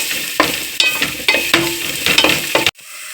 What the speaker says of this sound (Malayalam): അതിലേക്ക് ഇതാ നമ്മൾ അരിഞ്ഞു വെച്ചിരുന്ന നമ്മുടെ സവാളയും ക്യാരറ്റും കൂടി ഇട്ട് കൊടുത്തിട്ടുണ്ടേ.